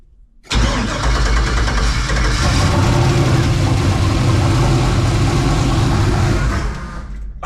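A turbocharged junkyard LS engine in a truck cranks and fires, then settles into a loud, rough, close-up running drone that fades slightly near the end.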